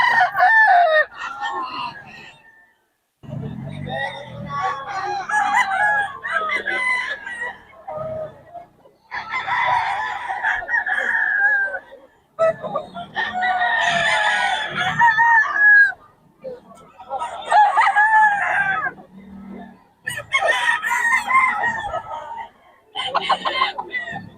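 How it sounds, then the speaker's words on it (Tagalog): Roosters crow repeatedly in loud bursts, with clucking between calls and separated by brief pauses. "Solid mga quality mga manok ni Boss M."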